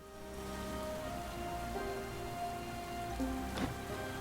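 Steady rain falls in the fantasy RPG Stoneshard, a soft even hiss that holds throughout without any voices, with a quiet game tone lingering beneath.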